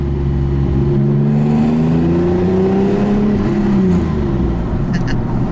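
A TVR sports car engine revs loudly and continuously inside a tunnel, its raspy note rising and falling in sweeping pitch changes with heavy low rumble and echo, and no voices over it.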